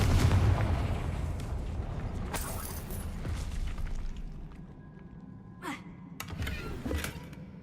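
A Confringo fire blast spell in Hogwarts Legacy lands with a dense booming burst that rumbles and slowly fades, followed by scattered lighter swishes and mechanical clicks.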